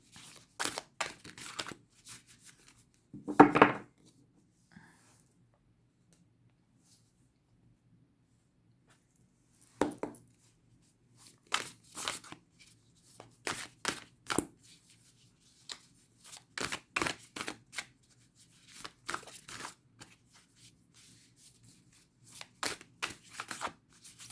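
Playing cards are shuffled for a card reading in short riffling bursts separated by silent gaps, close and crisp, with a louder burst near the start and several quicker runs later.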